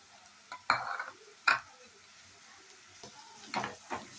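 A spoon stirs ginger garlic paste into frying onions in a pan, with scattered scraping clinks and soft sizzling at close range. The strokes come in irregular bursts, and there is no speech.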